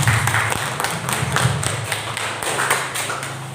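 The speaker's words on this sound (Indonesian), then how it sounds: "tepuk tangan untuk kita semua" Audience at a village community program in Indonesia clapping together, a dense steady patter of many hands sustained for a few seconds with no voices.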